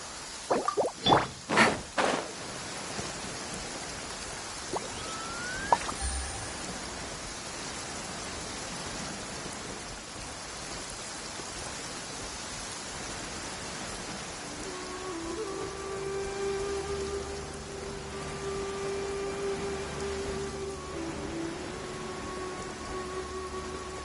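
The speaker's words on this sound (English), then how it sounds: "It's raining again? Oh, this isn't good." Steady rain falling in the Genshin Impact game world, a constant soft hiss with a few sharp clicks and taps early on and a faint tonal hum appearing later, no voices.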